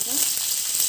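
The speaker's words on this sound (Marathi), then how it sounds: "तेल गरम झालं त्याच्यात मी 1 चम्मच जिरं टाकते" Cumin seeds hit hot oil in a kadhai, giving a brief, even hiss of sizzling that stays close and steady for under a second.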